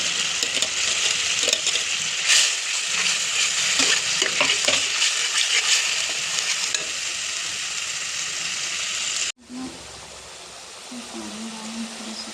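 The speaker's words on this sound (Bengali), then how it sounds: "পিউরি করা আদা, টমেটো, লঙ্কা সব কিছু গ্রাইন্ড করা পিউরিটা এটা তেলে দেওয়া হয়ে গেছে।" Pureed ginger, tomato and chili spluttering in hot oil, a close busy sizzle with stirring scrapes that cuts off near the end, leaving a quieter background where a voice speaks.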